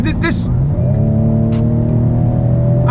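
A 2019 Ford Edge ST engine roars up close, its revs hanging high and steady rather than dropping into the next gear, with brief speech at the start.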